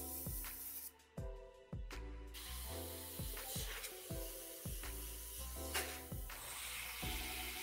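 An airbrush hisses in a series of short spray bursts with quick gaps as the trigger is jogged on and off, weathering a desert-scheme model aircraft up close, with no talking.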